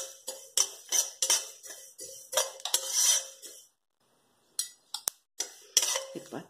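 Sesame seeds dry-roasting in a pan give way to a run of sharp metallic clinks and scrapes from a spoon against the pan in uneven bursts, with a quiet pause partway through.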